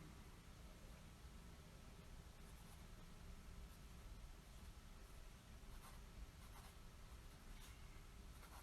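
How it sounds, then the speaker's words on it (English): A vintage Sheaffer Triumph GT fountain pen with a fine, fairly dry nib scratches faintly across paper. The strokes are soft and steady under a constant hiss, with no voices. "here we are with the Sheaffer TRILIMPH GT 550, and let's see how it writes."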